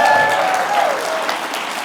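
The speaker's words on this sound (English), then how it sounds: "Can you give yourselves a round of applause?" A room full of audience members applauds at a political event, a short burst of clapping with a bit of crowd noise.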